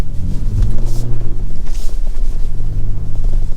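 A 2024 Ford Ranger Raptor midsize truck drives on gravel with a loud, steady low engine rumble and road noise, plus some wind buffeting close to the microphone.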